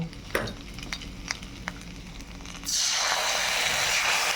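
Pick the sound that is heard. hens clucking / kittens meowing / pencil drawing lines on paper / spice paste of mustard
spice paste of mustard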